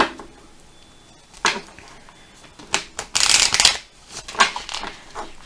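Oracle cards being shuffled by hand, a run of crisp papery riffles and slaps in several bursts, close and fairly loud, with no talking over them.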